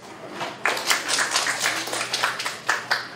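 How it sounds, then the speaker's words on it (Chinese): Audience applause at a COSCUP 2020 open-source conference talk, a steady wash of many hands clapping with sharper individual claps standing out, sustained throughout at moderate loudness. "那我们掌声欢迎他"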